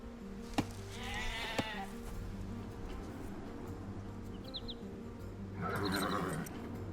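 Sheep bleating in the video game Age of Empires II, a few short wavering bleats at moderate distance over a steady ambient game soundscape, with no talk.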